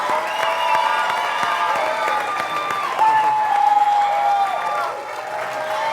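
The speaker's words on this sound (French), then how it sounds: "J'invite maintenant, sous vos acclamations, Dale Lewis." Loud audience applause and cheering as a guest is welcomed at an evening event, sustained clapping with whistles and shouts from the crowd throughout.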